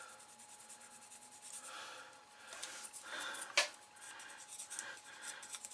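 Soft, uneven rubbing and scraping strokes of a sanding stick on a small nylon part of a 00 gauge model locomotive kit, close up and fairly quiet, with one sharper scratch midway.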